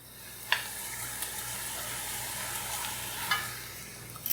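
A pumpkin mixture with chopped carrots is stirred in a pan, a soft continuous sizzle with a couple of scraping clicks from the spoon, close and fairly quiet with no talking.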